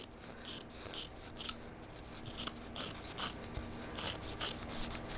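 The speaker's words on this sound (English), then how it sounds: "take my scissors and I'm laying the blades against the ball and trimming up all the excess fabric" Scissors snip and rasp steadily, trimming excess fabric around a styrofoam ornament ball, with close, continuous scratchy cutting and rubbing sounds.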